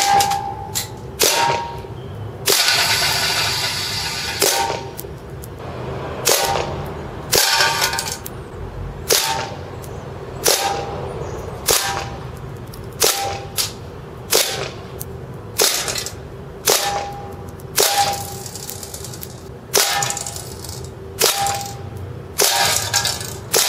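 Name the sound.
S&W M945 gas airsoft pistol shooting BBs at a can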